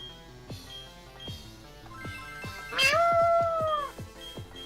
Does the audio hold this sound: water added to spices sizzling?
no